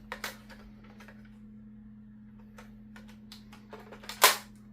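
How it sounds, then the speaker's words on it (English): Foam darts are loaded into the magazine of a Nerf SLAB blaster, giving sparse, close plastic clicks and snaps spread over several seconds, with a sharper, louder snap near the end. "let me get the mag and load it up so I don't dry fire the blaster"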